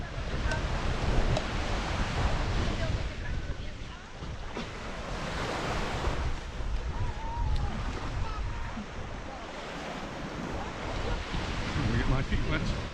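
Sea waves wash steadily onto a beach at Cala Torta in Mallorca, a continuous broad surf roar with gentle swells in loudness, mixed with wind buffeting the microphone.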